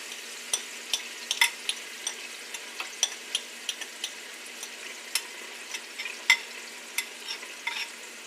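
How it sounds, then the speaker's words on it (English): Two small red onions hit a hot pan for beef stroganoff and fry with a steady, quiet sizzle, broken by regular scraping clicks of a spoon stirring the pan, with no one talking. "I'm going to dump in, these are 2 red, 2 small onions"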